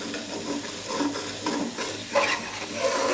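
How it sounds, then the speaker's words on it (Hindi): A potato and egg curry frying in a pan over high flame while a spoon stirs it continuously, producing a close, steady sizzle with scraping strokes and small clinks, no voices. "अब हम चम्मच मुसलसल हिलाते रहेंगे ताकि सालन अब नीचे ना लगे।"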